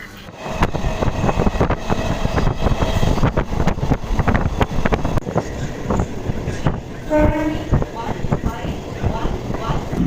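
A local train rolls between Kanchrapara and Halisahar with a loud, steady rumble and wheel clatter close by. A horn blares briefly near the end, and a voice may be heard under the noise.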